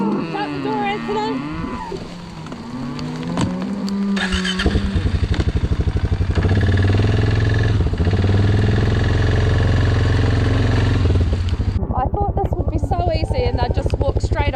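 A motorbike engine idles and revs steadily and loudly, with cattle mooing and a voice calling out over it at the start.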